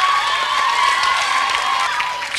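A studio audience at a children's Eurovision national final concert applauds and cheers for a band, a dense, steady wash of clapping and shouting voices that holds at full level for a couple of seconds.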